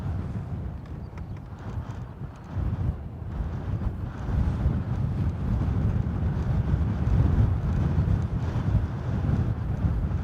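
Wind gusts outdoors at Dublin Airport, buffeting the microphone in a continuous low rumble that grows stronger partway through, with no voices.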